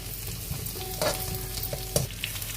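Green chilies and garlic fry in hot melted butter for butter paneer. A constant close sizzle carries a couple of sharp spatula clinks and scrapes, with no voices.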